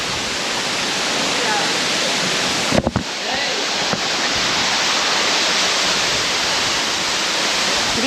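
Zenith waterfall near Pune in monsoon season, a steady loud broadband roar of falling water filling the whole stretch, with a couple of brief knocks near the middle.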